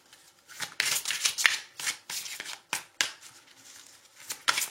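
Tarot cards shuffled and drawn by hand, with repeated riffling and sliding swishes in uneven bursts, close and fairly loud with no talking.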